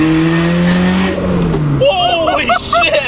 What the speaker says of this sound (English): So many turbo noises. I hope you guys can hear this.